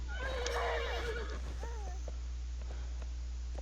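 A horse in the online game Black Desert Online rears and gives a loud whinny near the start, followed by a shorter snort and faint hoof clops over a steady low game hum.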